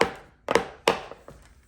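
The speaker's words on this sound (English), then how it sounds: "we give our pans a sort of bang to level them up" Loaf pans filled with banana bread batter are banged against a counter to level it, giving three or four sharp, close thuds with quick decays and no talk.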